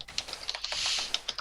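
Quick, light keystrokes clatter on a computer keyboard at close range, an uneven run of clicks with brief pauses and no talking.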